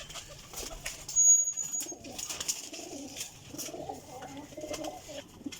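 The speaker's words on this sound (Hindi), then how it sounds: "माशाल्लाह जी गोल्डन कबूतर है" A flock of golden flying pigeons at a breeder's loft keeps up a layered, close cooing, with one louder burst early on and the rest a steady, overlapping warble.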